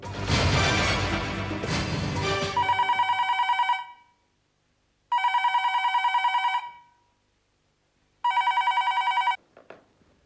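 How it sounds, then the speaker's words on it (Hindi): After a burst of dramatic music, a telephone rings three times in separate, evenly spaced bursts of bright, rapid trilling with clean silences between them. A brief click follows as the call is picked up. "मैं उसे अभी फोन लगाती हूँ।"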